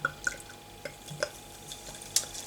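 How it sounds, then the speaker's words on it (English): Brothers Parma Violet cider is poured from a can into a glass, heard as faint liquid trickling and drips with small glassy clinks, quiet and close against a low background hum. "Let's just get this cider pop to end all cider pops out into a glass"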